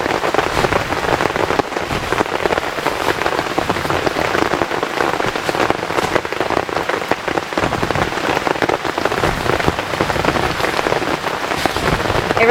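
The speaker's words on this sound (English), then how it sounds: "it sounds like it might be raining heavy right now" Heavy rain from a severe thunderstorm drums steadily on a tent, a dense, loud patter of drops with no letup and no voices.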